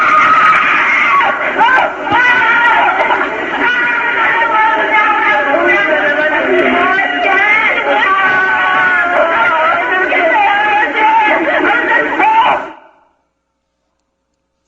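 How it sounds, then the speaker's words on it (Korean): A played recording of a crowd of people screaming and wailing continuously, loud and dense with overlapping yells and cries, running unbroken for about twelve seconds before cutting off into silence. "몇 시간 동안 울고 또 울면서 질렀던 그 비명의 소리인데요"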